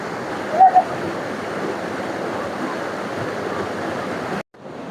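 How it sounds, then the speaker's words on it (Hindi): Loud, steady roar of a waterfall and flowing canal water at Sungai Pisang in Malaysia, a constant close rush that breaks off abruptly near the end. "कितनी बेहतरीन आवाज़ है पानी की।"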